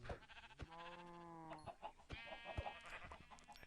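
A couple of short bleats from a Minecraft sheep, close and clear, with a few soft clicks and thumps around them.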